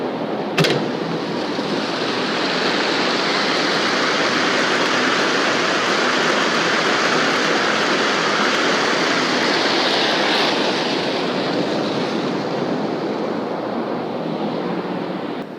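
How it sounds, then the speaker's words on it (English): A manual commercial Ag Pro flush valve sends water rushing down barn alleys, starting with a sharp thunk and then a loud, steady roaring gush that holds for many seconds. "Simply pulling the lever back will flush the alleys."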